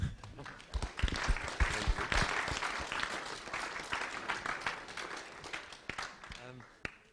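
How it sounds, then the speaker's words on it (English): An audience at a panel talk about an urban screen wall claps, beginning in scattered claps and swelling into steady applause that fades toward the end, with speech mixed in. "Maybe we give you a little applause first."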